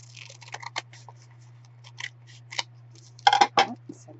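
Scissors snip through a paper bag being cut for a craft album, giving a few sparse, soft crisp cuts close by, with a louder cluster of snips near the end over a low steady hum.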